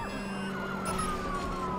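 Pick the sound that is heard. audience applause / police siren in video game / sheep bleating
police siren in video game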